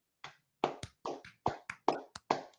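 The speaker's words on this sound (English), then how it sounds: "Let's clap for the Ivorians." Sparse, separate hand claps from an audience, about eight crisp slaps at an uneven pace with short silences between them, close and clear with no talking.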